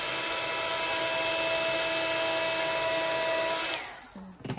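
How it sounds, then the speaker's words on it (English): A heat gun on its high setting melts embossing powder, a steady loud whirring blow with a constant whine that runs evenly before cutting off near the end, leaving quiet handling sounds. "I'm going to use my heat gun, and I'm going to go straight in on that higher speed"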